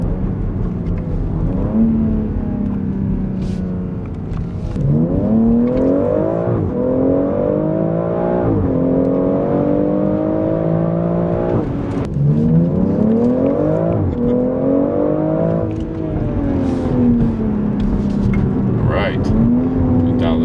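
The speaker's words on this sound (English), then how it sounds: "Dial this back and then run up through the gears." A BMW X3 M with the S58 engine and a BimmerWorld Speed Buster tune accelerates hard through the gears, heard from inside as loud repeated rising engine sweeps broken by brief dips at each shift, continuous throughout.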